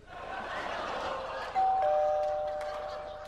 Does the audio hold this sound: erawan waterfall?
no